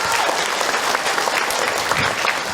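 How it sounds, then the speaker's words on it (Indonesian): Loud, steady audience applause at an Islamic religious lecture, a thick continuous patter of many hands clapping for a few seconds without talk. "Tepuk tangan itu buat bunda semua."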